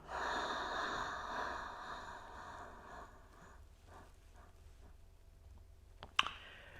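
Heavy, steady breathing during a frozen-shoulder exercise, a long breathy exhale at first, then a few softer short breaths and a small click near the end, close and fairly quiet.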